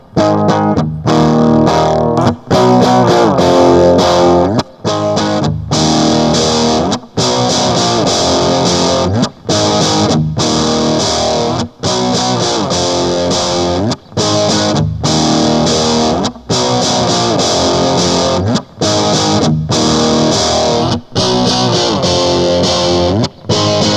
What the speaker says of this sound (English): let's try a little more aggressive power chords here